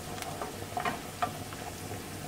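Spinach sautéing in a pan, giving a soft continuous sizzle with a few light stirring clicks, close and quiet.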